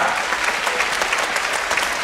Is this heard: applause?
yes